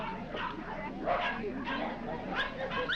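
Scottish terriers in a show ring at a dog show bark and yip in quick bursts amid a crowd murmur and voices, moderately loud and busy throughout.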